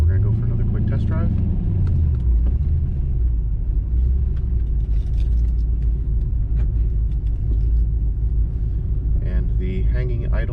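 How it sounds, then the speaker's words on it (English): A car out on a road test after a DIY throttle body cleaning, its low engine and road rumble steady and close throughout, with a voice speaking over it. "we're going to go for another quick test drive."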